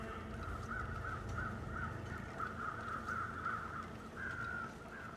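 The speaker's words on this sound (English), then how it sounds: "I've gotten to where I don't like the sound of crows." Crows cawing in a harsh, repeated series through the snowy wilderness of The Long Dark, a steady run of calls at moderate loudness over a low ambient rumble, with no one talking.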